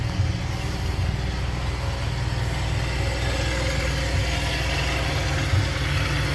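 Toyota Kijang engine idling after warming up, with a thermostat fitted and the radiator just cleaned: a steady low rumble with an even throb, close and constant throughout, with no voices.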